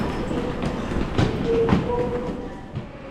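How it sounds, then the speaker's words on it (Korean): A subway train running toward Paju on a deep underground line rumbles steadily, with rolling wheel noise and a few faint squealing tones, heard from inside the car. "저는 서울에서 파주 방면으로 가는 지하철을 탔습니다."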